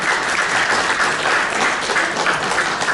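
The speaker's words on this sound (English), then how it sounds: "Give them a round of applause." A room full of people at an informal coffee-hour talk gives loud, dense applause, a thick continuous patter of clapping that stays even and close for the full few seconds.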